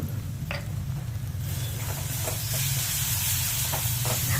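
Spice masala being sautéed in a pan for boiled egg tikka masala, giving a steady close sizzle and hiss with a few brief stirring scrapes, no voices.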